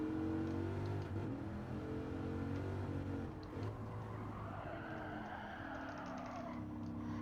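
Racing car in Gran Turismo 7 sliding through a corner, steady engine drone with tonal whine and tire scrub swelling in the second half, moderate and continuous.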